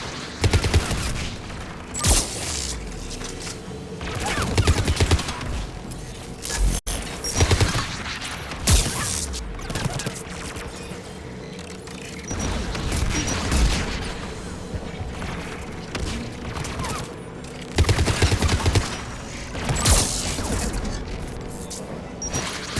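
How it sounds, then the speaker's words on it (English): Anti-aircraft guns firing in the video game Mass Effect 3, with repeated heavy bursts and booms recurring in clusters over a rumbling battle backdrop, moderately loud throughout. "There, the anti-aircraft guns."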